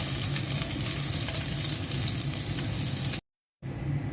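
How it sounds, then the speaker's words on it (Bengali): Tilapia fish frying in hot oil in a home kitchen, a loud, steady dense sizzle that runs continuously, drops out briefly to silence, then resumes. "তেলাপিয়া মাছটা দিয়ে দিচ্ছি। মাছটা হালকা ভেজে নিলাম"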